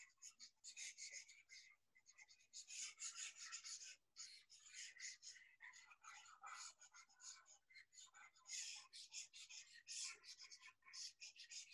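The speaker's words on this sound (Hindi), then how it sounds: "तब तक इसको मैं रब कर रहा हूं" Writing on a classroom board is rubbed out with steady, scratchy back-and-forth strokes, fairly continuous with brief pauses, close and moderately loud.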